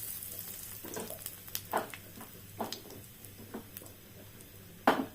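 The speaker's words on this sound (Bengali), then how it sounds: "এই তেল দিয়েই আমি এবার গ্রেভিটা বানাবো। আর কালো জিরা ফোড়ন দিয়ে দিলাম, আর একটু হিং দিয়ে দিলাম।" Nigella seeds and asafoetida tempering in hot oil, with a soft low sizzle under scattered crackles and a few sharper utensil taps, fairly quiet and close.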